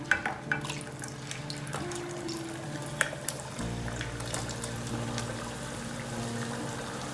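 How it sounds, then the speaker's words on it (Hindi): Purple yam (ratalu) pieces deep frying in hot oil for undhiyu, giving a steady close sizzle and bubbling with a few small pops and clinks near the start, the texture thickening midway and holding on without talk. "अब हम ये रतालू को डीप फ्राई करेंगे।"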